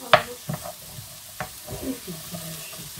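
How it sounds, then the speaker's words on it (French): Small onion pieces frying in a pan, stirred and pushed apart with a small wooden spoon: a low sizzle with a few scraping and tapping strokes, no talking. "Vous prenez une petite cuillère en bois. Vous essayez de séparer les petits morceaux d'oignon un peu partout."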